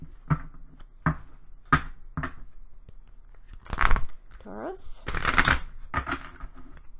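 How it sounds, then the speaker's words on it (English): Tarot card shuffling in several quick riffling bursts, with a person speaking briefly between them. "And let me just shuffle this one."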